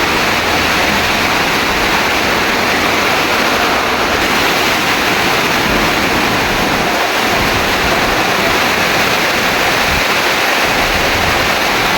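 Heavy typhoon rain and strong wind roar as a dense, constant wash of noise, loud and close throughout, with no breaks and no speech.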